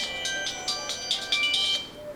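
A mobile phone rings nearby with a bright, repeating electronic melody of short chiming notes, steady and moderately loud, no talking over it.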